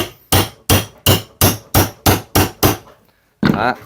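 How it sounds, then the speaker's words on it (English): Eight sharp, loud hammer blows drive a nail punch into wood in a steady rhythm, a short pause follows, then one more heavy strike with a ringing tail. "And then we just take a hammer, put your ear defenders on at this point, punch that in."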